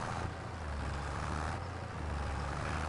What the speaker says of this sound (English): Let's take this tractor.